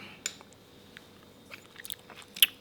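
Rice noodle papaya salad being chewed, with soft crunchy bites and wet mastication noises scattered over a few quiet seconds, close and fairly faint, with no talking.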